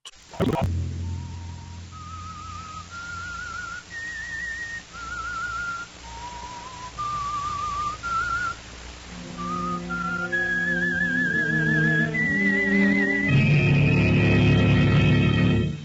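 Someone whistles a slow, wavering melody, note by note, soon joined by a swelling orchestral backing that grows louder toward the end, from a 1943 CBS radio drama.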